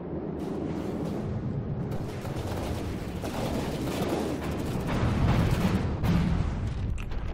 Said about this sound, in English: A lot of internal explosions there.